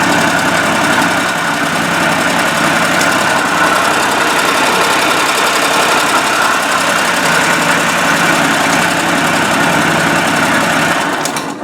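Repowered Exmark Turf Rider mower engine running steadily and loudly up close. The drone is constant and vibrating and keeps going without a break before it stops right at the end.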